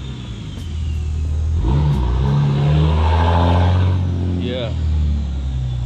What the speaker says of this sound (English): Some loud truck right there, bro.